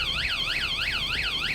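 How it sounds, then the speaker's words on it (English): Security alarm sounding continuously at close range: a shrill electronic tone sweeping up and down in a steady, repeating wail, several cycles over a faint background. "it's going to activate the alarm"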